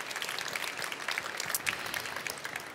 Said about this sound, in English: Big applause for Aaron, ladies and gentlemen.